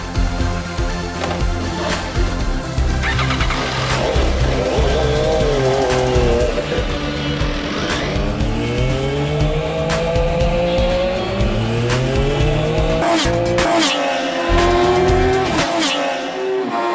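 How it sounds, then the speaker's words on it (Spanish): An MV Agusta F3 motorcycle laps a race circuit, its high-revving engine rising and falling through gear changes, loud and close throughout with a tyre squeal as it corners. "la prueba de la moto en circuito"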